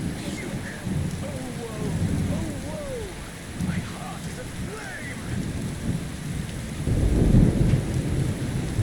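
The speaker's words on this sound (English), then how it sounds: "Everybody just sitting out here in the rain like nothing." Steady rain and rolling thunder fill an outdoor scene in the fantasy video game Enderal, a continuous wash of rainfall under low rumbles that swell louder near the end, with faint game sounds scattered through.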